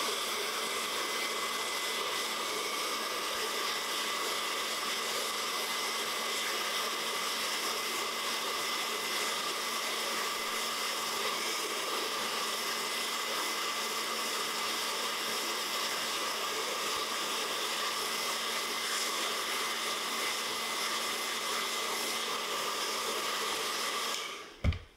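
A heat gun blows hot air while warming a glow skin onto a Magic Band, a loud, steady roaring whoosh that holds unbroken for the whole stretch and cuts off abruptly at the end.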